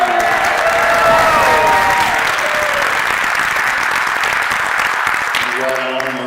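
Sustained applause and crowd noise from an audience at a congressional town hall meeting, loud and steady throughout, with a voice on a PA system speaking faintly over the clapping near the end.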